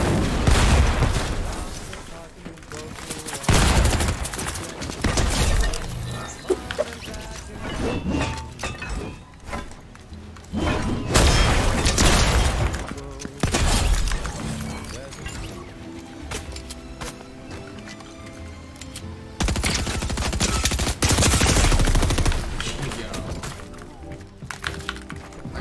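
Assault rifle fire in a Fortnite match comes in loud repeated bursts of rapid shots with sharp impacts, broken by brief quieter gaps over about twenty-five seconds.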